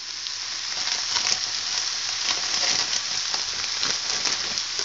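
Red cabbage frying with ham in a pan, a steady, loud, close sizzle with crackling spits and faint stirring scrapes running unbroken throughout.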